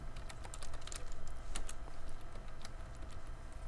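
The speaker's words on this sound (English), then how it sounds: "If you select that, you can just type in your name." Quiet, steady keystrokes on a computer keyboard while a folder name is typed, a continuous run of light clicks over a low background hum.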